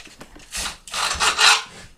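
Several rough, raspy scraping strokes rub across a ridged wooden scraper instrument, each a short grating swipe, close and fairly loud.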